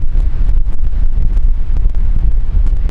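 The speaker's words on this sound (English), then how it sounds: "it's very windy" Strong wind gusts blowing hard across a lakeside at Jindabyne in the Australian alpine region, a steady loud low roar with buffeting pulses throughout and no voices.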